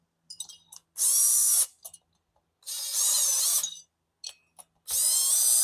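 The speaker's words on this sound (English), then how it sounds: "I use my Impact. It's a really crappy Menards one" A cheap impact driver tightens bolts on a Stihl MS 500i chainsaw during a rebuild, firing in three loud, close hammering bursts of about a second each, with quiet handling clicks between them.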